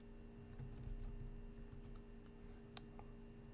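Soft, faint keystrokes on a computer keyboard while entering Linux commands at a terminal, a few scattered taps over a steady low electrical hum.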